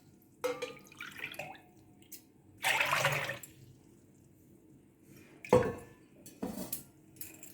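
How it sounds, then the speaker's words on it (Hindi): A pot of water for pasta being handled in a home kitchen: a few sharp metallic knocks and clatters of cookware, a short burst of running or pouring water, then scattered clinks, fairly quiet and close. "3 बाउल हमको पानी उबलने के लिए रखना है।"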